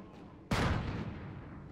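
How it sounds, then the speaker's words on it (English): A single loud gunshot from a video game cracks out abruptly and leaves a rumbling tail that fades slowly under steady background noise. "Hear my shots going off."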